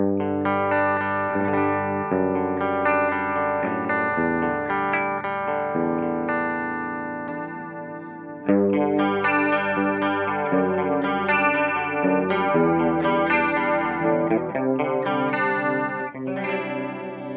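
An electric guitar on a clean tone plays chords and melodic lines through a Delta Super Green chorus pedal, giving a shimmering, doubled effect, continuous, with no voices.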